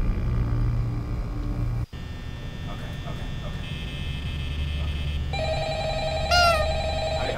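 Telephone ringing inside the Five Nights at Freddy's video game, a steady repeating electronic ring over a constant low hum, with a brief dropout near two seconds and a brighter tonal chime toward the end.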